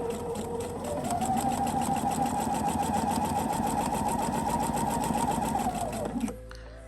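A sewing machine stitches bias tape right along its fold line in one continuous, steady, close run lasting about six seconds before stopping.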